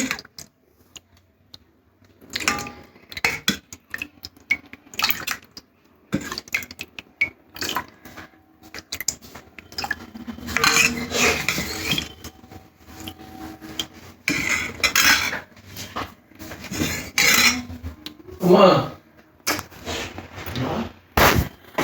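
Lunch being served onto plates from pots of egg curry, dal and fried potatoes, with steady clinking of dishes, spoons and cutlery, close and fairly loud in irregular bursts, no talk.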